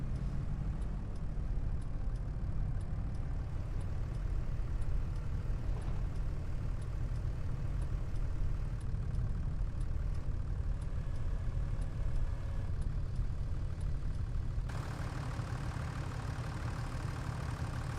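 Tractor engine idling steadily in the Farming Simulator 25 video game, a continuous low rumble that runs the whole time with no voices, its tone shifting slightly near the end.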